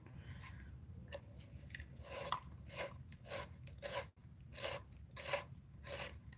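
A colored pencil turned in a handheld sharpener; repeated short scraping, rasping strokes in an uneven rhythm, close and quiet, with no talk.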